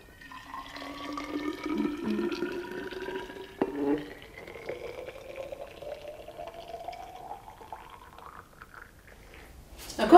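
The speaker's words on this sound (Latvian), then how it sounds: "Pārliecam ūdeni termosā, lai saglabātu vajadzīgo temperatūru ilgstoši." Water pours steadily into a thermos, the tone rising gradually as the vessel fills, ending with a sharp clink.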